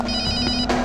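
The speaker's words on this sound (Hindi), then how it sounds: "फोन बज रही है।" A telephone rings with a bright electronic tone, a short burst heard close by.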